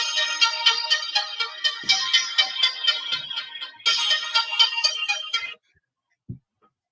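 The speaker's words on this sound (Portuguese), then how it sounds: "Já é uma ligação." Phone ringtone signals an incoming call, sounding as a loud, bright repeating melodic pattern close by that restarts once and then stops abruptly, followed by a brief soft thump.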